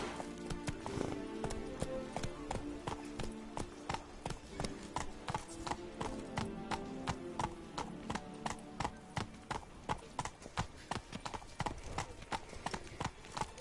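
Roach the horse gallops in The Witcher 3, a steady rapid rhythm of hoof clip-clops throughout, with faint music underneath and brief speech.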